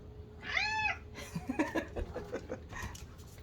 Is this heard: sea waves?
no